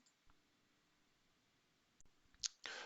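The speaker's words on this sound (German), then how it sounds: "Das machen Sie, indem Sie auf diesen Schalter klicken." Mouse click on a button in materials-database software for plastics, a single sharp click near the end after a long quiet stretch, followed by a brief burst of noise.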